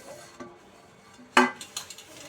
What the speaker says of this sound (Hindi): मैं इधर फटाफट बर्तन धोने आई हूँ।